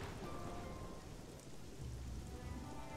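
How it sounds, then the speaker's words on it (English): Rain pours steadily in the Xenoblade Chronicles 3 game world, a faint, even hiss of falling water with low rumbling beneath, continuous and without voices. "Oh, and it's raining."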